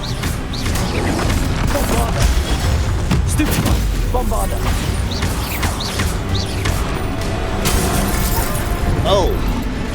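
Bombarda spell blasts in Hogwarts Legacy erupt as repeated booms and crashing shatters over a dense battle din, with voices calling out throughout.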